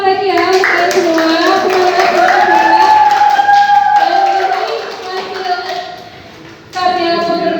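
A classroom group claps together after children's team presentations in a Pancasila lesson, a dense patter of hands heard under a voice that talks over it before the clapping thins and rises again.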